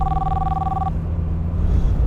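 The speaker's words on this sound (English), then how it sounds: "somebody's telephone is ringing now" Telephone ringing during a car rally: a steady two-pitch electronic tone that holds for just under a second and then stops, over loud low engine rumble.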